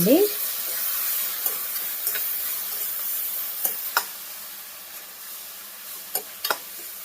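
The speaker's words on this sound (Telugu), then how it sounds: "అలానే పసుపు ఒకసారి కలుపుకుందామండి" A spoon stirs turmeric into frying masala in a pan, giving a soft, steady sizzle broken by a few sharp scraping clicks and taps, fairly close and alone.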